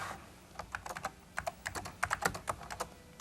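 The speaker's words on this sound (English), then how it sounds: "I can simply add something very easily by just clicking here and typing in whatever I want" Rapid, uneven typing on a computer keyboard, a run of distinct close key clicks entering text into a small personal organizer program, heard alone without speech.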